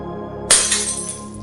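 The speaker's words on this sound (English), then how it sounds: "One night I woke up to the sound of glass breaking." A mirror shatters with a single sudden crash, then bright glass fragments tinkle and scatter and fade away within about a second, over a quiet, dark musical bed.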